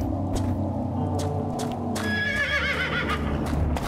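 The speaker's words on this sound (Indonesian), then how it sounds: "Ada kuda, coy." A horse in Tomb Raider Chronicles gives a loud, wavering neigh over a busy game soundscape, with clip-clopping hooves and rumbling underneath.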